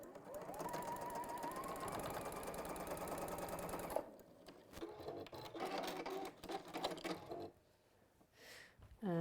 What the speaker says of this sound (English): go to the machine and sew along that line